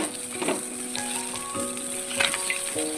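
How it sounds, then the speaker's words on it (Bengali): Fish deep-frying in oil on a tawa crackles with a constant, close sizzle and bursts of popping, alongside faint steady background tones. "একটা তাওয়ায় তেল দিয়ে আমি মাছগুলো ভালো করে ভেজে নিচ্ছি একবারে ডিপ ফ্রাই করে নিচ্ছি"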